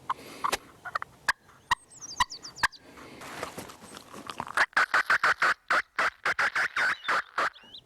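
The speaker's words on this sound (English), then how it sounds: "Steve, I see the turkeys" A rapid series of sharp, clucking calls from wild turkeys on the first day of turkey season comes in quick bursts, growing denser and more rhythmic toward the end, fairly close, near a briar patch.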